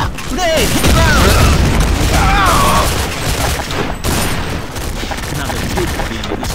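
Heavy, sustained explosive booms and gunfire-like blasts rumble through a Half-Life: Heart of Evil battle, loud and close, with chirping tones and shouted voices over the chaos.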